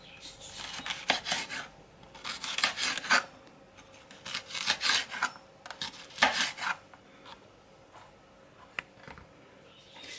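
Knife slicing carrots on a cutting board for a prawn dish, a series of rasping, scraping cuts in short bursts with pauses, close and moderately loud, no talking.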